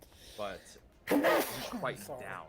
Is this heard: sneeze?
yes